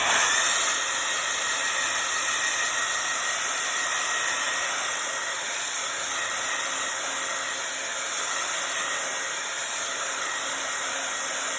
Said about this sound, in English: I am going to hit it with the blow dryer